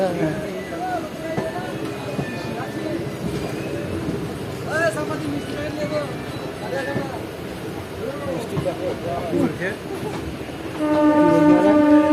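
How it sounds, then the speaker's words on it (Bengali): A train rumbles and clatters steadily as it rolls into Cossimbazar station on an inaugural special run, a voice talking over it and a loud horn-like tone near the end. "আমাদের ট্রেন প্রবেশ করে গেল কাশিমবাজার স্টেশনে"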